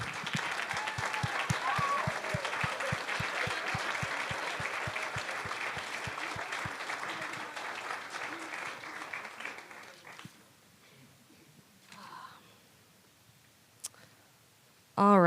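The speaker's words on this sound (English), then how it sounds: "we are going to give you a round of applause" Applause from an audience at a university speech showcase, sustained clapping with rhythmic beats that fades out after about ten seconds, leaving quiet room noise before a voice begins speaking at the end.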